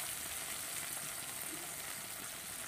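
Spices with salt and turmeric frying in a pan, giving a steady, close sizzle that stays even throughout, with no talking.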